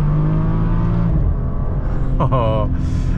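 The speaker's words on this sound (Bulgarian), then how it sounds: "двигателят започва да ръмжи" A BMW 435i engine growls as it accelerates, a loud close in-cabin drone rising in pitch, with someone talking over it.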